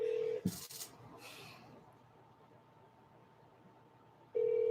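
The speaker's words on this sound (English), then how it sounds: "Okay, it's ringing." A steady electronic tone sounds briefly, cuts out after a clatter and a few seconds of quiet, then returns at the end, like a phone line ringing.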